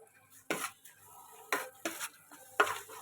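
Tuna pickle mixture with asafoetida powder being stirred in a pan, four distinct scraping strokes at uneven intervals, close and fairly soft, with quiet gaps between them.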